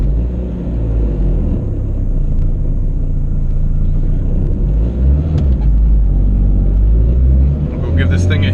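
A turbocharged Honda Civic EG with a GSR engine idles after a restart, a loud, steady low rumble with a slight rise near the end.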